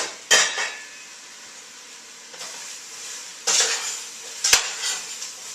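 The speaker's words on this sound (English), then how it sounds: "Actually, I should give them a stir." A few short clattering scrapes of a spoon stirring cooking apples in a pot, spaced apart, with quiet gaps between them and no voices.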